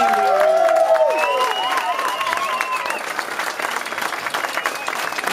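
Concert audience applauding for a supporting band at a rock show, loud crowd clapping with scattered cheers and whistles at first, then a sustained clapping wash that eases slightly.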